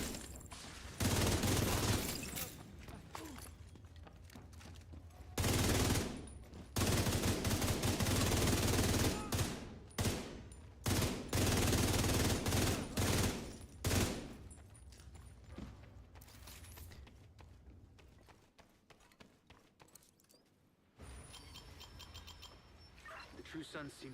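Sustained bursts of automatic gunfire from The Division 2 shooter game, loud and close, firing in long volleys with brief pauses, alongside in-game voices and combat noise.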